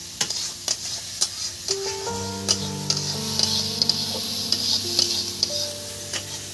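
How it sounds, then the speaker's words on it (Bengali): Chopped onion stirred and frying in hot oil, a steady close sizzle with repeated sharp ticks and taps of a spatula against the pan, plus a tonal hum mid-clip. "পেঁয়াজটা তেলের মধ্যে আমি একদম নেড়ে ছেড়ে নিচ্ছি"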